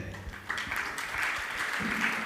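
An audience bursts into applause at a Jain religious discourse, clapping rising suddenly after a moment of quiet and continuing as a moderate, sustained patter in a large hall.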